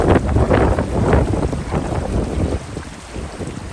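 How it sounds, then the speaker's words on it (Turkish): Strong wind roars and buffets the microphone in heavy gusts beside a stream, loud and close, easing slightly toward the end. "Çünkü aşırı derecede rüzgar var."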